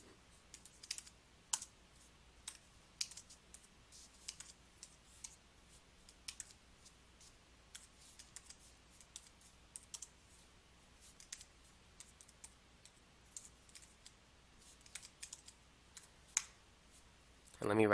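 Names are typed into an Excel spreadsheet on a computer keyboard, with quiet, scattered key clicks continuing in an uneven rhythm over a long stretch of near silence.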